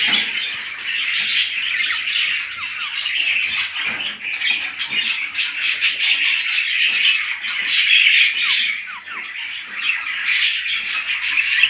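A pair of budgerigars in a home breeding cage chatters and chirps continuously up close, a dense stream of warbling tweets and squawks with occasional wing flutters.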